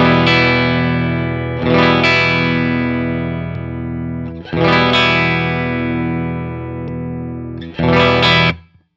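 Electric guitar through a Suhr Bella amplifier rings out in sustained, distorted chords, struck again roughly every three seconds as the effects loop is switched in and out, with no audible change in level, loud and close.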